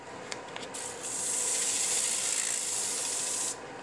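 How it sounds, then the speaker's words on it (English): Steady abrasive rasping of sandpaper against a spinning wooden salt or pepper shaker on a lathe, a continuous hiss that starts after a few light scrapes and stops abruptly near the end. "I'm just getting rid of the of the sanding marks from the previous grit."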